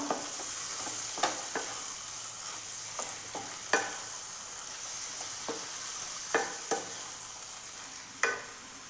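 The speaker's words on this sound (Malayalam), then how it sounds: "അപ്പോൾ ഇതൊക്കെ ഒന്ന് നമുക്കൊന്ന് മിക്സ് മിക്സ് ചെയ്ത് കൊടുക്കാം" Ivy gourd mezhukkupuratti, a stir-fry, sizzles softly in a pan as a spoon scrapes and stirs through it with occasional distinct clacks against the pan over a steady frying hiss.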